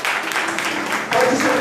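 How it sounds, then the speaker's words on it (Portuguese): Congregation in a church clapping after a sermon, a steady dense wash of applause lasting under two seconds and swelling slightly toward the end, with voices mixed in. "Você pode aplaudir o nome do Senhor?"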